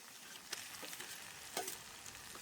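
Onion frying in oil as chili powder goes in, a soft steady sizzle with a few sharper crackles and stirring scrapes, quiet and close.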